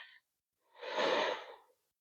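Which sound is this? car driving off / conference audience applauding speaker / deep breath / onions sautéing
deep breath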